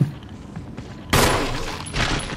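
A loud gunshot blast in Resident Evil, one sharp close report after a quieter stretch, followed by a ringing tail and a second burst of noise.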